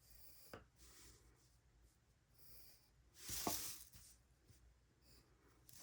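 Colouring pencil or marker scratching across paper to fill in a background, faint soft strokes coming in short scraping bursts, with one louder, longer rub near the middle.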